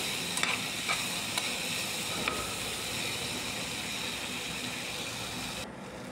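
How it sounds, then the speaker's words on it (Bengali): Jackfruit seeds and potatoes fry in a pan with a soft, steady hiss, a few light clinks of stirring early on, and the sizzle continuing evenly at low volume. "ঢাকাটা উঠিয়ে আরেকবার নাড়িয়ে ভালো করে কষিয়ে নিচ্ছি।"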